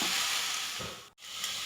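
Coriander leaves being sautéed for chutney sizzle in a pan as a steady, close frying hiss, with a brief dropout near the end before the sizzle resumes.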